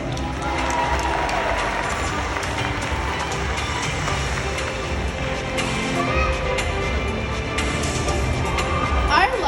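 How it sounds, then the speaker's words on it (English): Audience applause at a Six Flags Discovery Kingdom dolphin show: dense, steady crowd clapping and cheering fills the whole stretch at close range, with a voice talking over it. "Everybody give our volunteer a round of applause."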